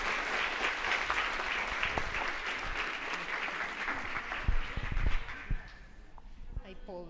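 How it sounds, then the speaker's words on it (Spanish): Audience applause at a training gathering for formadores, a dense sustained wash of clapping that swells briefly near the end before tapering off as voices emerge. "Un fuerte aplauso, por favor."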